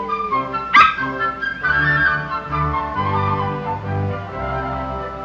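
A dog playing fetch gives a sharp yelp near the start, then a run of whimpers and soft yips, close and clear with no talking.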